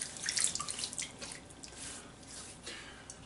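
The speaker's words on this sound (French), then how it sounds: "On va se mouiller la figure." Water splashes and drips near a sink as a face is wetted before a traditional wet shave, a short run of close, soft splashing and trickling.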